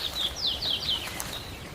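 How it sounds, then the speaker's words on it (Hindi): Small birds over watery rice paddy fields give a quick run of high, thin chirps and trills at moderate distance, fading after about a second into a soft outdoor hush. "पक्षियों की आवाज़ वातावरण को जीवंत बना रही है।"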